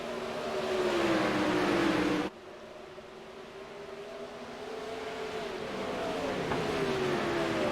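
Dirt race cars in a 360 sprint racing sim on the final lap: a steady, loud engine drone with rising and falling pitch, which drops abruptly after about two seconds and then builds back up.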